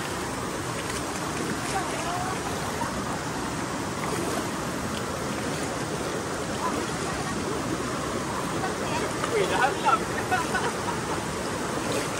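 A river being crossed on a hike near Lata Medang, Kuala Kubu Bharu, Selangor, Malaysia flows steadily throughout, a broad, even wash with occasional splashes, fairly close and moderately loud.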